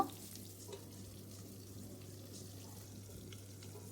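Eggplant seasoned with salt and turmeric fries under a lid in a covered pan, giving a soft, steady sizzle at low level with a faint constant hum beneath.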